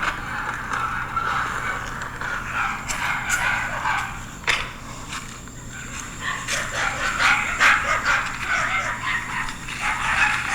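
Dogs barking and whimpering at a house, moderately loud excited yips and barks scattered over a steady background hum, with no speech.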